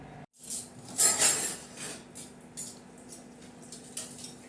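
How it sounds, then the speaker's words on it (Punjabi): Dishes clatter and clink at a kitchen sink, with a loud burst of scrubbing and rinsing noise early on, then lighter scattered knocks of utensils and pots. "ਲੋ ਜੀ ਆਪਾਂ ਭਾਂਡੇ ਮਾਂਜ ਲਈਏ"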